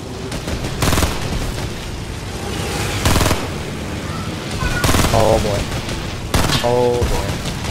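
Automatic gunfire in the Fortnite video game, bursts of rapid shots recurring across the clip among game effects, with speech-like sounds in the mix but no clear words.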